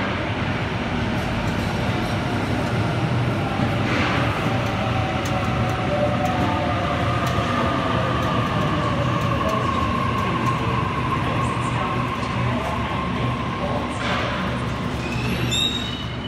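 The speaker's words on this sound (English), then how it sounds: "Waratah arrived onto platform number 2, Reeves Beach service." A Sydney Waratah electric train arriving at platform 2 of Wolli Creek station gives a steady, loud rolling rumble with rail hiss that carries on throughout, and a faint high squeal of wheels or brakes rises near the end.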